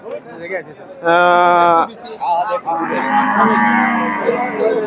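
Dairy cows at a cattle market, with one loud sustained moo close by, then a second long lowing call, amid market chatter and people talking.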